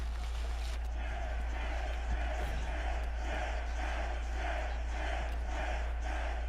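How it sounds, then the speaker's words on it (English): A video-game crowd roars steadily through a UFC 6 mixed martial arts bout, with a dense, continuous arena din that rises and falls in regular swells, like a rhythmic chant. "They're really behind Whaley here in this crowd"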